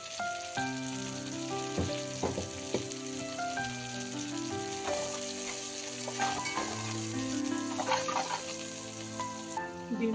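Coriander frying in oil while making egg noodles, a constant soft sizzle running under steady background music with a few faint stirring clicks.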